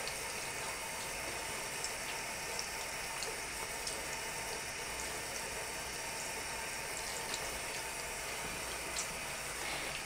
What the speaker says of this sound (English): Run it under the water again to rinse it while squeezing at the same time